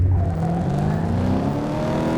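A Dodge car's engine revs hard during a race in the Top Drives video game, a steady rising whine that climbs through the gears, loud and continuous with no voices.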